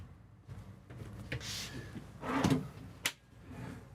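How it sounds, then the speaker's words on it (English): A drawer in a 2024 Winnebago EKKO 22A camper slides open and shut with scraping and rattling, a little stuck, then a sharp knock as it closes, close up and fairly quiet. "A drawer here. Let's try that one again. A little stuck there"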